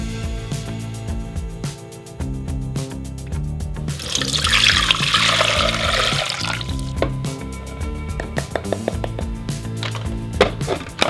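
Liquid poured into a container to make a sodium alginate bath for vegan fried eggs, a steady broadband pour swelling loudly in the middle amid clinks and handling knocks, with no talking.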